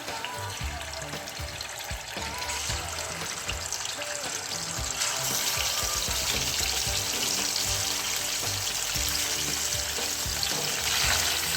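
Chicken pieces fry in oil in a karahi for Peshawari namkeen karahi, giving a steady, close sizzle with stirring scrapes that grows louder and busier partway through.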